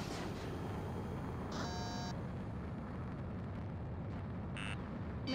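Ace Combat 7 jet combat with a harmonic missile lock-on warning tone that sounds briefly about a third of the way in, then a short high beep near the end, over a constant dense roar of engines and explosions.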